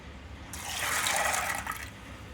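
Water pours steadily for about a second and a half into a pressure cooker holding soaked yellow peas, a bright hissing splash that swells and then stops, with no talking.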